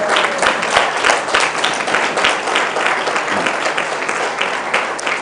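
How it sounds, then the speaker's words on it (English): Loud, continuous audience applause for the winners of a university quiz challenge, many hands clapping together in a dense, close wash with a few sharper individual claps standing out. "Please give them a round of applause once again"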